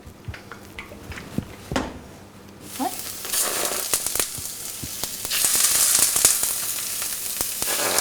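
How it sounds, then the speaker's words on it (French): Scallops hit a hot plancha slicked with olive oil: a few quiet clicks first, then a sudden bright sizzle that swells and holds loud to the end, with faint speech in the background. "on va passer au Saint-Jacques et puis on va les snacker sur la plancha"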